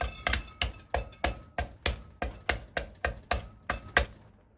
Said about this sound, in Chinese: 再来处理山药，用刀像这样直接拍碎就可以